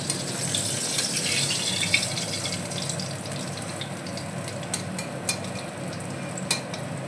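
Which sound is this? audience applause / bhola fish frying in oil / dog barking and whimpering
bhola fish frying in oil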